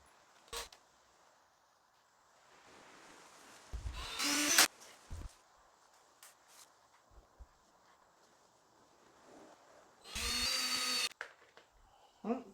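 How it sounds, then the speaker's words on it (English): A power drill bores holes for bumper brackets on a second-generation Scion xB in two short, loud bursts of whining drilling, separated by quiet stretches with a few clunks and footsteps. "just use that as a guide"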